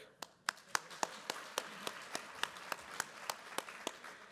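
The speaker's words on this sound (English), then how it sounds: "Let's give another round of applause for Eric" Audience applause at a Cesar Chavez celebration at Colorado State University, a faint, thin round of clapping with sharp, evenly spaced claps, like a few people clapping in a steady rhythm.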